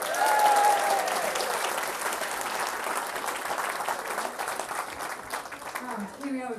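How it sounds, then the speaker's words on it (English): An audience at a walk-and-talk event gives a big round of applause, a dense, sustained wash of clapping that starts strong and gradually thins, with voices and a few whoops mixed in. "please give a big round of applause"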